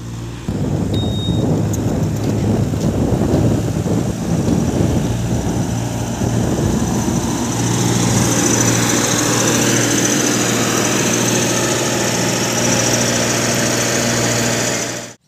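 A Massey Ferguson 1035 40HP tractor pulls a loaded trolley up a slope, its diesel engine giving a loud, steady, close rumble that holds for the whole stretch before cutting off at the end.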